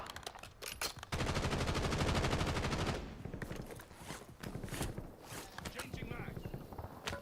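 Automatic weapon fire in Call of Duty Warzone on Verdansk rattles out in one sustained burst of about two seconds. Scattered footsteps and clatter follow, with faint voices underneath.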